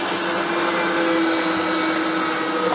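Meat grinder mincing veal, lard and onion, a loud steady motor whir with a constant droning tone, running unbroken through the short stretch with no talking.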